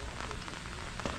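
Rain falls steadily on surfaces in the countryside, a brief, continuous patter with scattered close droplet taps over a constant wash.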